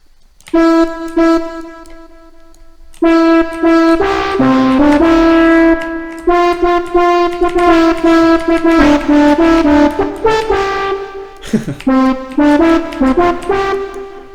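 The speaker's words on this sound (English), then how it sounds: "It already sounds a lot like a horn" A synthesized horn built with feedback synthesis in Fabrik plays a run of sustained, brassy tones, some held and some shorter, loud and alone with no talk.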